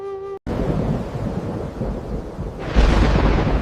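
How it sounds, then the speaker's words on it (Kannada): A thunderstorm breaks over farm fields: a deep rolling rumble of thunder under a dense hiss of rain, swelling louder near the end after a brief musical tone at the start. "ಬಂತು ನೋಡಿ ಮಳೆ!"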